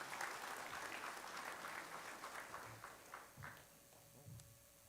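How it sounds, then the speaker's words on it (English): An audience at a career academy signing ceremony claps steadily for a few seconds, then the applause thins out into scattered claps and quiet room noise, with faint background sounds. "give them all a round of applause"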